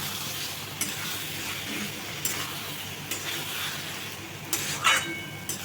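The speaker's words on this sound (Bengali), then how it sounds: "এবার চিকেনটাকে হাই ফ্লেমে ভালো করে ভেজে নেবো" Chicken pieces frying on high flame in spiced masala with a little oil and green chilies, a steady close sizzle broken by periodic scraping stirs of the pan, no talking.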